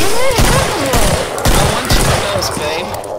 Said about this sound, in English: I'm gonna use my pistol.